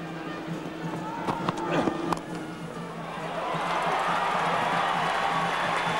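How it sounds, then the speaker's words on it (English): West Indian spectators at a Barbados cricket test match against England cheer and clap, a wide crowd roar swelling and holding steady, with a commentator talking over the start. "So something to cheer about for the West Indian spectators in the crowd."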